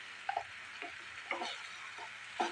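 Red chili and turmeric fry with potatoes for a taro leaves curry over a medium gas flame, a soft steady sizzle broken by rhythmic spoon scrapes and stirs.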